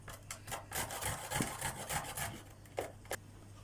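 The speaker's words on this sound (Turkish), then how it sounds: "Arkadaşlar rendenin ince tarafıyla rendeliyoruz." Celery and carrot are rubbed on the fine side of a grater in quick, rhythmic rasping strokes, close and fairly quiet, with brief scraping bursts.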